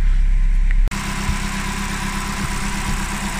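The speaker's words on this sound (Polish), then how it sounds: "W tej chwili, żeby nie było, silnik pracuje na benzynie." Opel Z14XEP petrol engine idling steadily up close, a continuous low-mid running drone with faint rapid injector ticking layered through it, after a brief abrupt dip at the start.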